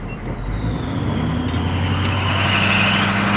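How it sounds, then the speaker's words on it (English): A car engine revs up with a rising drone while the alternator on the cold vehicle squeals, giving a thin, whining tone that climbs over the engine noise and stays loud and close. "The alternator's working. You heard it squeal."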